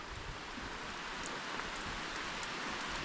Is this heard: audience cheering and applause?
no